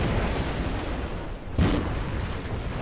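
Naval guns fire in World of Warships, a dense rumbling barrage with a sharper boom near the middle, heavy and continuous throughout.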